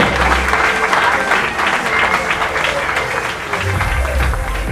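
Sustained loud applause from a crowd at a Muay Thai boxing event fills the hall steadily for several seconds, dense clapping with a faint murmur of voices underneath.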